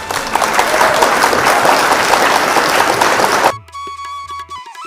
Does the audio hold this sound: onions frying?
no